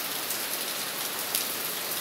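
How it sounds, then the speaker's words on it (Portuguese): Heavy rain pours down in a dense, unbroken hiss, loud and close, with no talking. "Está chovendo bastante."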